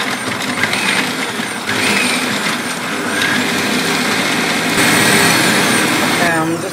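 Electric blender whirring steadily as it chops minced garlic, a continuous motor drone with small shifts in pitch, close and loud throughout.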